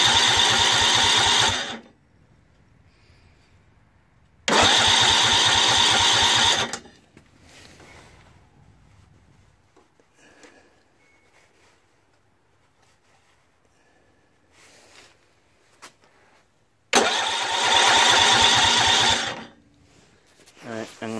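A Tecumseh 6HP engine on a Snapper riding lawn mower cranks three times in loud, rough bursts of about two seconds each, with quiet gaps and faint mechanical clatter between the attempts.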